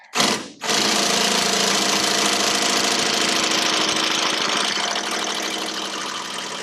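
A Snap-on impact driver runs in reverse on a bolt with a loud, steady rapid hammering rattle, starting after a brief burst and continuing at a near-constant level to the end.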